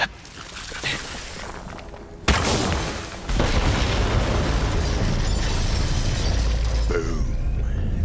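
Set bombs detonating in the video game Borderlands 3, a sudden loud blast followed by a sustained roaring rumble and debris noise that keeps going, heavy and close.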